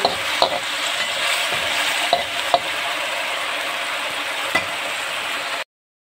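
Tofu frying in a pan sizzles loudly and steadily, with a few sharp utensil taps and scrapes, then the sound cuts off abruptly.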